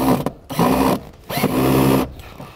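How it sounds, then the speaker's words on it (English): A power drill drives self-tapping screws into the metal floor of a 2015 Jeep Wrangler, giving a few loud whirring bursts separated by short pauses. "I'm going to put some self-tapping screws into the floor to hold down our unit."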